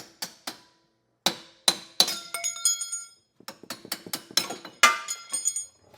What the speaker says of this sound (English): Now we're just going to take our U-bolts and tap them out.